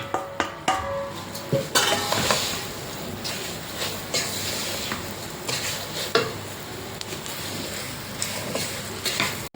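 A spoon stirs fried bitter gourd, garlic and green chillies together in a pan for a pickle. It makes close, irregular scraping and clattering strokes over a faint sizzle.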